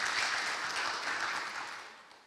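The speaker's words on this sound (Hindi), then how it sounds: "जोर से ताली बजाए।" A church congregation at a Sunday Hindi service claps in a warm, steady burst of applause that tapers off toward the end.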